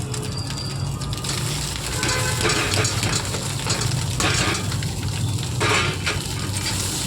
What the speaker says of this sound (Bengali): এবারে ওই ডিমের মধ্যে চাউমিনগুলো আমি ঢেলে দেবো।